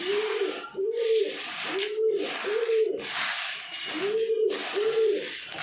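Pigeons coo close by while being fed grain, a rhythmic series of about seven throaty, rolling calls repeating at a steady pace over soft scratching and rustling.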